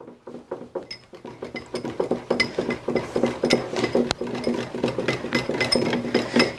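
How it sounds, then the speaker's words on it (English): A small whisk beats batter in a bowl, producing quick, rhythmic clinks and taps against the sides, close and fairly loud, steady throughout. "So I'm just whisking this here."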